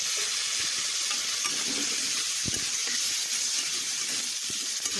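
Potatoes with salt, turmeric and water sizzle steadily in a pan, a constant bright hiss with small crackles and occasional stirring scrapes, close and alone.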